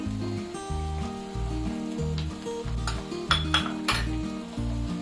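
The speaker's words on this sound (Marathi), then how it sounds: "व्यवस्थित परतून घेऊया अगदी हलक्या हाताने आपल्याला परतून घ्यायचे" Coconut and jaggery being gently stirred in a pan for sweet coconut rice, with spoon clinks and scrapes against the metal pan over a soft sizzle and steady background hum.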